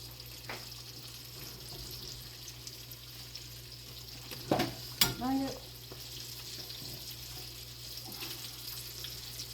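Catfish nuggets frying in oil, giving a steady soft hiss and sizzle throughout, broken midway by a couple of brief clatters of utensils.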